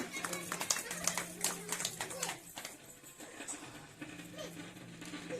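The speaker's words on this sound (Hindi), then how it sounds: "एक बार जोरदार ताली से स्वागत करें।" Scattered clapping from an audience at a Gayatri community welcome ceremony rises and fades in uneven bursts, with voices talking underneath throughout.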